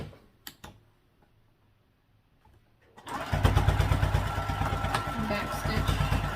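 A sewing machine top stitching a fabric crossbody bag starts up after a few quiet seconds of light clicks, then runs steadily with a fast, even mechanical rattle, close and fairly loud.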